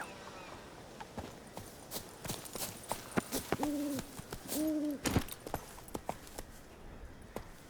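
Horse hooves clip-clopping in the video game The Witcher 3, a series of irregular, fairly quiet hoofbeats with a couple of brief cooing or calling sounds mixed in.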